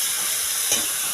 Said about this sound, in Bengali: সব একসাথে ভালো করে নাড়িয়ে ভেজে নেব।